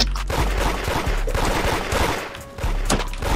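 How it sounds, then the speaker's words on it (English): Dense, overlapping gunfire from the Roblox game Da Hood, a rapid chaotic barrage of many shots close by and loud throughout, with no talk. "Bro, I'm getting shot from everywhere."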